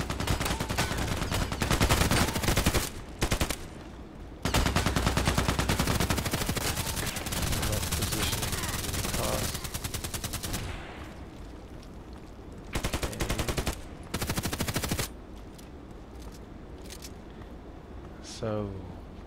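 Sniper rifle fire in a video game contract mission, heavy bursts of shots and impacts dominating long stretches, broken by short pauses, with a voice talking underneath in places.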